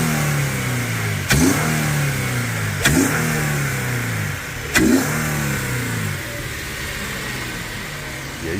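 An Infiniti G37 with a modified exhaust revs hard three times in succession, each sharp blip rising and falling back to a rumbling idle, loud and close.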